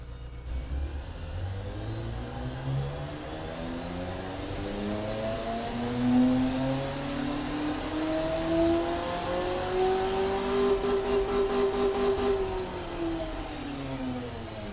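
A 590-horsepower SUV engine in the car-building game Automation revs up through rising, droning tones, climbing and holding in pitch before easing off, steady and alone with no talk.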